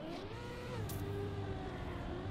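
A car engine in a racing video game holds a steady, moderately loud hum with slight rises in pitch, close and continuous with no talk.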